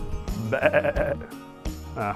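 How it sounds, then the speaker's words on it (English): Sheep bleat in the Faroe Islands, several wavering, nasal calls overlapping at close range over a few seconds, with a faint outdoor background. "I'm not going down here with these sheep laughing at me."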